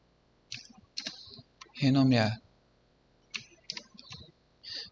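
Mouse clicks and keyboard typing at a computer while renaming a scene in video software, a few sharp clicks followed by a quick burst of keystrokes, then more scattered clicks, close and fairly quiet.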